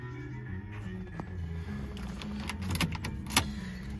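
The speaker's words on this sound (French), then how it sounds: "Et je me bats avec la clé de contact." Someone works the ignition key of a 1978 Volkswagen Beetle cabriolet, making small metallic jangles and clicks up close. A few sharper taps stand out near the end over a low background hum.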